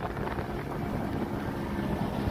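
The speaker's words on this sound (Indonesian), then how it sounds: "Angin sangat-sangat kencang." Strong wind roars steadily against the microphone on an island off the Aceh Jaya coast, Indonesia, a dense low rumble like being out on open water, with no voices.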